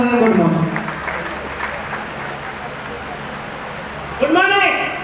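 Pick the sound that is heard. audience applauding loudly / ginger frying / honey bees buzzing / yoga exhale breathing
audience applauding loudly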